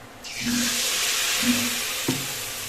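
Pumpkin flower fritters hit a hot wok and set off a strong, even sizzle, with faint low murmurs and a brief clink beneath the frying.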